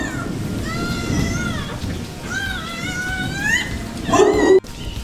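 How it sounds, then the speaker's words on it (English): At an animal shelter, a newborn puppy beside its mother dog gives thin, high whimpering cries in several drawn-out bursts, close by over a soft, steady background hiss. "this dog's just given birth to a puppy"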